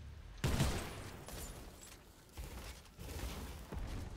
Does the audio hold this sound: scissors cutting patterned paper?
no